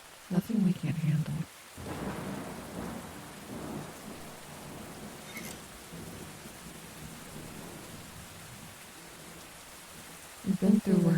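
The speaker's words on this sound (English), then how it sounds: "In a few minutes, the thunder's gonna pass." Thunderstorm at a campsite: steady rain hisses throughout while low thunder rumbles roll beneath it, with brief voice sounds near the start and end.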